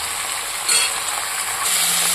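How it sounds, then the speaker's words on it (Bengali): Okra, potato and green chillies fry with tomato in a hot pan, a steady close sizzle with occasional stirring scrapes and bursts of louder crackle. "এটাকে আমি সুন্দর করে ভাজা করব।"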